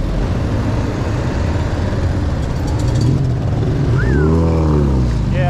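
Busy Christmas street traffic in Guadalajara, with cars and motorcycles rumbling steadily nearby and an engine note sweeping past near the end, heard from a BMX bike weaving through crowds; a voice speaks briefly.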